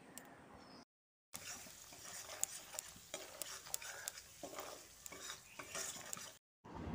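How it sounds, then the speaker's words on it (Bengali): Ground turmeric, coriander and cumin frying in a pan for a vegetarian taro dish, with a steady sizzle under repeated scraping stirs and brief gaps of silence near the start and end. "এবার মশলাটাকে খুব ভালো করে কষিয়ে নিচ্ছি"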